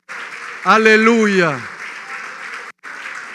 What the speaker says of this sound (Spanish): Ponte de pie y dale fuerte el aplauso